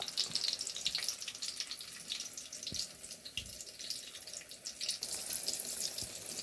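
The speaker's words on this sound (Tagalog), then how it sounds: "Nagpiprito po ako." A soft, steady sizzle of bananas frying in a pan, with faint crackles and a few low knocks, no voices.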